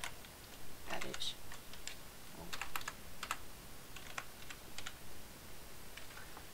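Fingers type on a computer keyboard to name a new folder, tapping out short irregular bursts of quick, light clicks with brief pauses between them.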